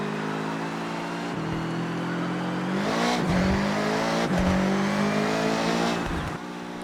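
A VW Beetle fitted with a 2.5-litre boxer engine revs hard in Forza Horizon 6, its engine note climbing and dropping through several loud, continuous rising sweeps with brief gear-change dips, no talking.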